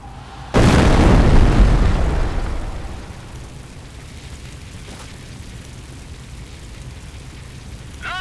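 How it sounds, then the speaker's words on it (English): A heavy incendiary barrage explodes in Company of Heroes, a sudden loud boom at about half a second followed by a dense rumbling burst that fades over two seconds into a low steady background hiss. "Incendiary rounds on their way!"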